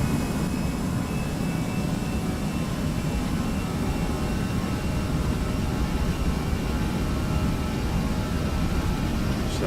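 Jet engines of an AeroSoft A320 in the Prepar3d flight simulator spooling on a takeoff roll, a steady, loud broadband roar with low rumble that holds constant throughout, no voices over it.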